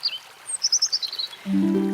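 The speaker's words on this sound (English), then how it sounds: "you can hear the birds chirping" High bird chirps in a quick series of tweets, fairly clear, in the mountains. A low, steady tone comes in near the end.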